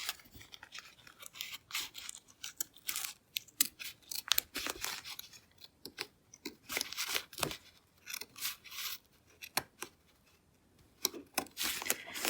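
Scissors trim steadily around machine-embroidered appliqué fabric, crisp repeated cuts with short pauses between them, close and fairly quiet.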